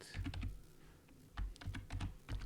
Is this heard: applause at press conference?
no